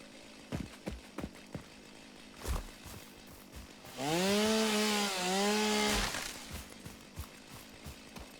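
A chainsaw in the video game Satisfactory revs up loudly for about two seconds as it cuts through foliage, its buzzing pitch dipping briefly mid-cut, set between scattered clicks and footsteps.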